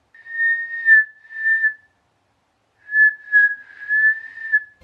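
Someone whistles two short, steady tuneful phrases with a brief pause between, clear and close, with no other sounds.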